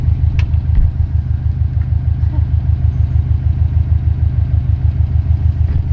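A Subaru STI engine with its mufflers removed idles loud and close, a steady low throbbing rumble with even pulses and no talk over it.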